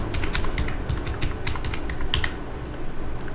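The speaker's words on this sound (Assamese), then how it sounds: "আধাৰ নম্বৰটো মই টাইপ কৰি দিছো" Fingers tap out an Aadhaar number on a computer keyboard in a quick run of soft, close clicks with short uneven gaps, alone and without talk.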